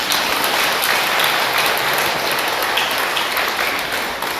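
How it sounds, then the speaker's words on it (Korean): Applause from a Buddhist temple congregation during a dharma talk, a dense, steady wash of many hands clapping together, loud and close throughout, with no speech over it. "박수 한번 쳐야 됩니다."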